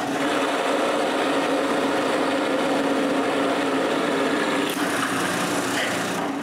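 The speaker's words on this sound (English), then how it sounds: "I find the center of the other side and drill a hole." Drill boring a hole through the center of a wooden cylinder, a loud continuous high-pitched whine with a steady buzz, close and unbroken for the whole stretch.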